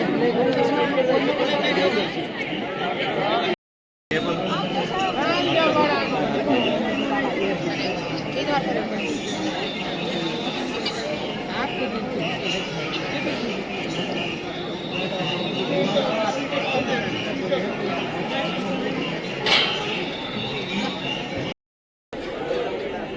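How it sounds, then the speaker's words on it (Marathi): Crowds gather at the main gate of Pashupatinath Temple in Kathmandu on Ganesh Jayanti. Steady chatter from many people fills the space, with nearby voices and occasional laughter over the hubbub, broken by two brief silent gaps. "आलेलो आहे मुख्य द्वारापाशी पण गर्दी खूप आहे"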